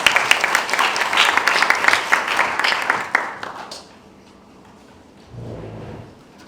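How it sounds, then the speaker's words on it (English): A forum audience in Korea bursts into loud, dense applause to welcome a speaker to the stage, which tapers off after a few seconds into near silence, followed by a soft low rumble. "Please welcome him with a big round of applause."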